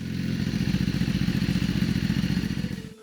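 BMW S1000RR superbike engine running with a steady, rapid throbbing pulse at a loud, close level for a few seconds before it cuts off abruptly at the end.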